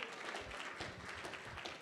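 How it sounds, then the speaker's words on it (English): Audience applause at a production event, a faint, steady patter of clapping from a crowd, heard alone. "Let's give our sponsors a round of applause."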